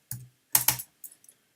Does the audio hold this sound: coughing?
no